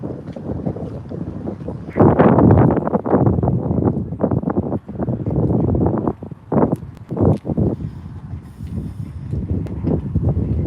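Strong wind gusting across a microphone outdoors by a busy riverside where hire boats are going out, roaring loudly in bursts and easing between gusts, with no talking.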